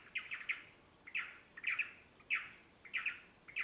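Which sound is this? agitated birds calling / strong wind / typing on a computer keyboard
agitated birds calling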